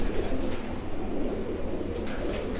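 Breeder pigeons coo on a rooftop loft in Lala Musa, a low steady burbling from several birds at moderate distance, continuous throughout.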